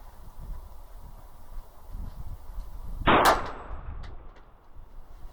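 A KelTec PMR 30 pistol fires a single Winchester hollow point round: one sharp, loud report about midway through, with a short ringing tail fading into quiet background.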